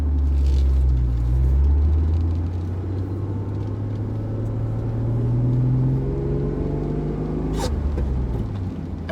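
A Honda-built Acura NSX revving as it accelerates, its engine note climbing steadily with a smooth, rising rumble heard from inside the car, then a brief pause for a shift before it pulls again, with no talking.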